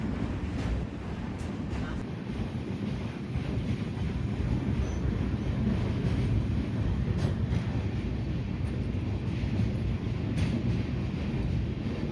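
A steady low rumble inside a moving train's sleeper coach fills the whole stretch, constant and fairly loud, with faint rattles and wind-like noise on top.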